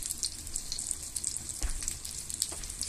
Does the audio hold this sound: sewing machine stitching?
no